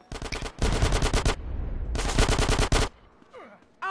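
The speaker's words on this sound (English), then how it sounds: "Who the heck is shooting me?" Gunfire in the video game GTA San Andreas: two loud, rapid bursts of automatic fire close by, separated by a short gap, followed by quieter game sounds.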